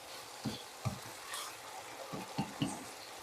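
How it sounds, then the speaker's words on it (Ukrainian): Meat and onion frying in a pan give a soft, steady sizzle, broken by a few short stirring scrapes and clicks of a utensil, fairly quiet and close. "Ось тут уже підсмажується м'ясо з цибулькою."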